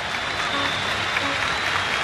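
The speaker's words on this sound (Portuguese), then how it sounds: "É aplaudido o Luiz Alberto." Stadium crowd at the Maracanã applauding a football player during a tense cup final, a steady dense roar of clapping that fills the whole stretch at even loudness with no break.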